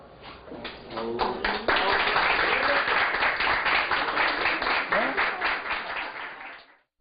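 Audience applauding teachers at a televised tribute ceremony in Distrito Federal, Brazil, dense steady clapping that builds quickly, holds for several seconds and then tapers off, with a few voices mixed in.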